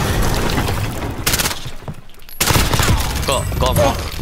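Dense automatic gunfire from the Warzone video game, loud rapid bursts near and far with a brief lull in the middle before another heavy volley.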